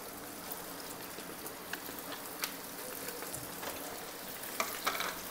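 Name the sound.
paneer samosa twisters deep-frying in oil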